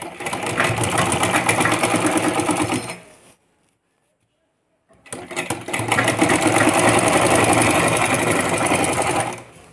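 A sewing machine stitches foam sheet for a small swing, with two loud close bursts of rapid whirring needle strokes separated by a pause of silence of a couple of seconds.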